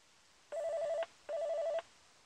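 A Volvo P2-generation Bluetooth hands-free module rings like an incoming call during a firmware update: two short electronic trilling rings, each about half a second, separated by a brief pause, quiet and close.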